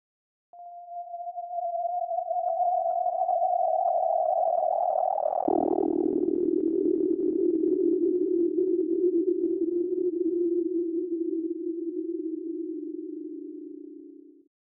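Two steady synthesized tones generated in SuperCollider and driven from SCAMP: a higher note holds alone, then a lower note takes over midway, each a clean sustained pitch with a gradual swell, playing alone without talk.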